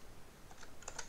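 Computer keyboard being typed on while coding a Roblox function, a few faint, close key clicks arriving in quick succession near the end of a quiet stretch, with no speech.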